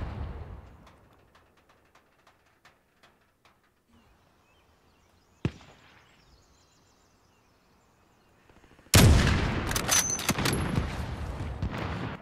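Distant rifle shots in the video game Call of Duty Warzone: a sparse series of faint cracks, one sharper nearer report, then a sudden loud burst of dense, close gunfire and impacts.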